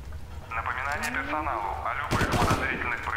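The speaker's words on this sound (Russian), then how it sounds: "А тут полчаса стрельба идет, это не подозрительно?" Gunfire in the 2004 video game Far Cry, rattling bursts of automatic shots crackling in the background while someone talks over them and a radio-style voice speaks.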